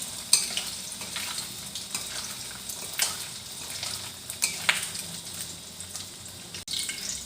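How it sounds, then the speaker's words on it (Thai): Three eggs frying together in a pan, a steady close sizzle with scattered crackles and pops, and faint clinks of a utensil against the pan. "ทอดทีละสามหน่วยเลยจ้ะ"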